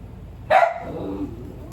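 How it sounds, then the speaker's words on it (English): A single sharp bark from a Shih Tzu close by, followed by lingering room noise. "Sorry for my dogs barking."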